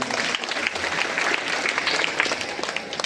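A crowd of children and adults clapping together in a village gathering, steady dense applause throughout, fairly close, with no talk over it.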